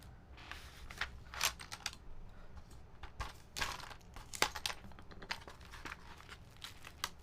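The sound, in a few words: keycaps being handled and organized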